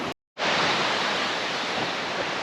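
Steady broadband rush of creek water flowing near a waterfall in the Ozarks, loud and continuous after a brief moment of silence at the start.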